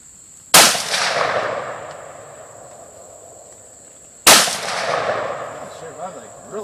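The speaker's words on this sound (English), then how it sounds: "You're shooting a little high, but not too bad." Two loud, sharp gunshots a few seconds apart during outdoor target shooting, each with a long fading echo over a steady high insect-like whine.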